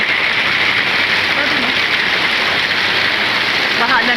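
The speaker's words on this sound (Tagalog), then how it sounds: "Hindi tumitigil ang ulan." Heavy rain pours down in a dense, steady hiss close by, unbroken for the whole stretch.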